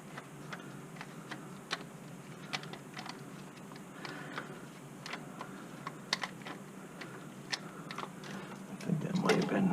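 Rapid ratcheting clicks of a socket wrench turning a bolt on a Volkswagen Jetta engine during a tune-up, quiet, close, irregular ticking bursts with a louder rattle near the end, and some muffled talk.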